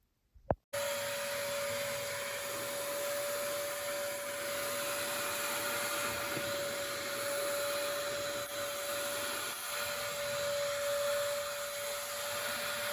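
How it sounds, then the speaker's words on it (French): An injector-extractor carpet vacuum runs steadily on a car's floor carpet, a loud continuous motor whine with a fixed high tone that holds unbroken for the whole stretch after a brief click at the start. "Je vais en profiter pour nettoyer correctement donc cette moquette avec un aspirateur, injecteur, extracteur."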